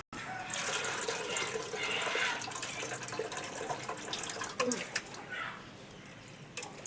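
Mutton being washed under a running tap after rubbing with salt and turmeric, a continuous splashing stream of water with occasional clatter, fairly quiet and close.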